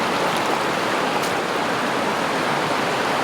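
A mountain creek in the Coffs Harbour and Bellingen bush rushes steadily, a dense, even wash of flowing water close by with no pauses and no voices.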